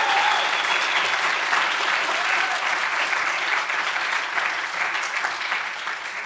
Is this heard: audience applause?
yes